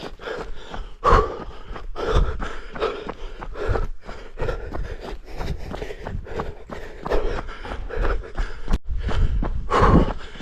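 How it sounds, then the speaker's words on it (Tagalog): Heavy, rhythmic panting and gasping from a runner on a 10 km mountain run at Jabal Dakka in Al Shafa, Taif, loud and close, with footfalls and breath bursts repeating throughout. "Puro hingal."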